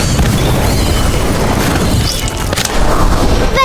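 The Incendio spell is cast in the game Harry Potter: Magic Awakened, giving a loud, rumbling fiery blast that fills the stretch with booming noise and ends in a sharp rising swish.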